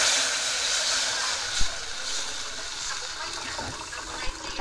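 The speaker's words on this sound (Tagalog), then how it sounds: "Lagyan natin ng tubig na kasama." Water pours into a pan of sautéed onion and garlic for a Filipino fish soup, a continuous close rushing splash and hiss with a couple of brief knocks.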